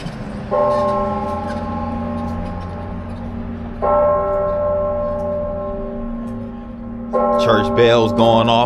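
Church bells of the First Methodist Church on a small-town courthouse square in Pulaski, Tennessee, ringing in long sustained tolls that strike again at intervals, loud and resonant over low traffic rumble, with a car horn or brief noise near the end.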